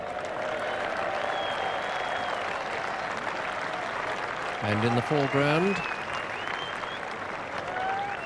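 A large cricket crowd at a 1990 England v India Test match applauds steadily and warmly as a local bowler comes on, the clapping continuous throughout while a commentator speaks over it.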